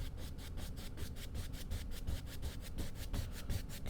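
Acrylic paint being scrubbed onto canvas with a paintbrush for a dark stormy sunset scene, a steady close rasping rub that repeats in quick regular back-and-forth strokes throughout.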